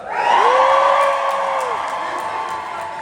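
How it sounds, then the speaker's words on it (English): A large audience at the Young Farmers Awards cheers loudly, with whoops and shouts rising and then sustained before slowly fading. "Give me a cheer so loud it can be heard from the Palace of Westminster"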